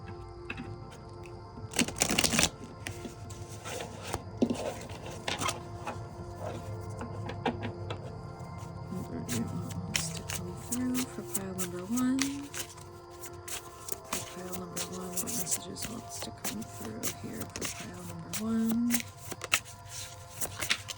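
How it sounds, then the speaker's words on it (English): Oracle cards are shuffled by hand in a steady run of soft riffling, rustling and light tapping, close and moderately quiet throughout. "let's start popping into the Mind Info Oracle cards to start out here."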